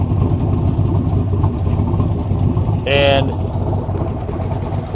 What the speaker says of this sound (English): And listen to that, it just purrs.